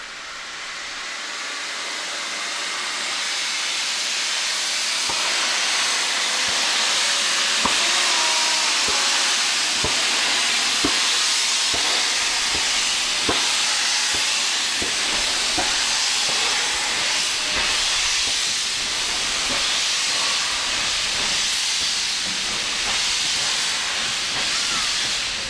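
Green Arrow, an LNER Class V2 2-6-2 steam locomotive, gives off a loud, sustained roar of hissing steam that builds at the start, broken by regular sharp knocks and clanks as it works close by.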